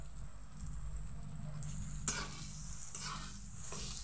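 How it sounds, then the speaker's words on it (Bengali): Raw green banana paste with spices and salt being stirred and sautéed over low heat in a pan, a steady close sizzle with scraping stir strokes and a sharper clatter midway. "ভালোভাবে মশলার সাথে আমি কাঁচা কলার পেস্টটা কষাবো"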